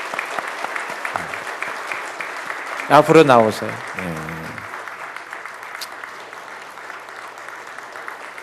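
A church congregation applauds continuously as a steady wash of clapping, while a pastor speaks briefly over it in the middle.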